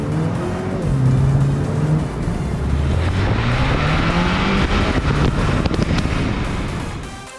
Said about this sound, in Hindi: सुनने में तो टर्बोचार्ज मोटर की बात अलग ही है।